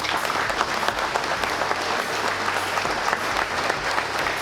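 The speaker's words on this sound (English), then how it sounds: "So for them guys, give them applause too." Steady, dense audience applause fills the air at a youth bowfishing tournament in Lyon County, Kentucky, honoring the boat crews. It holds at an even, full level throughout with no talking.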